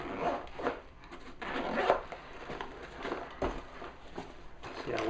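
A zipper is drawn open on a Maxpedition Malaga EDC pouch, giving several short rasping pulls close by, alone without talk.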